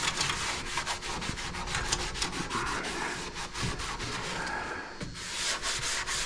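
Hand scuffing of a car's firewall and cowl for paint prep gives a steady, close abrasive rubbing with repeated back-and-forth strokes, heard alone without talk.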